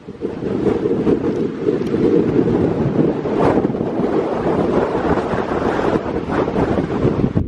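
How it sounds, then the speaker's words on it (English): Steady, heavy wind buffeting the microphone while cycling, a constant low roaring rumble that fills the whole stretch without letup. "It's a bit windy."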